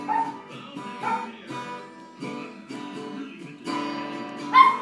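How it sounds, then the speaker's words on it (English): Small dog barking at a mirror indoors, a run of sharp, high yipping barks in uneven bursts with short pauses, loud and close, the last bark the strongest. "Why is Snooky barking at the mirror?"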